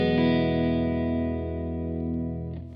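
An electric guitar chord rings out through a plate reverb setting on a Universal Audio Golden Reverberator pedal, sustaining loud and full before decaying smoothly into a lush tail.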